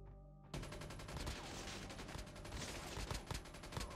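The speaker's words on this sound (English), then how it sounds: "he's shooting me, he's shooting me, he's shooting me" Rapid automatic gunfire in the Call of Duty Mobile game starts suddenly after a brief quiet moment, then keeps up a dense, loud crackle of repeated shots for several seconds.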